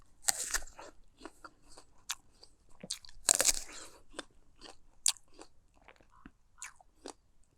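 Close-up bites into a juicy fallen fruit picked up in a home garden, with crisp crunches and wet chewing in separate bursts and short pauses between them.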